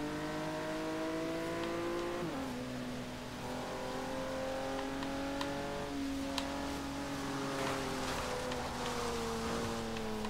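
Racing cars roar past continuously in Forza Horizon 3, engine tones shifting pitch as they overtake and rev, loud and steady throughout with no talk.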